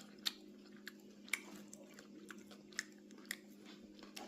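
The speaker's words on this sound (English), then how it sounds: "You hear that crunch?" Crunchy chewing of homemade food such as pita bread and broccoli, close to the mouth, with several distinct crisp bites spaced through a quiet background hum.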